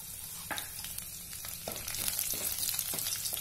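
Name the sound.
garlic frying in hot oil in a pan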